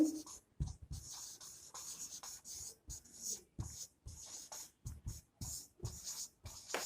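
Marker or chalk writing on a classroom board, a run of short scratchy strokes in bursts with brief pauses between them, close and fairly quiet with no talking.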